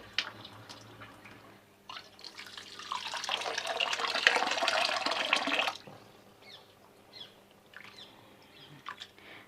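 Poha is rinsed by hand, water splashing and swishing steadily for a few seconds, with faint dripping and birds chirping in the background before and after.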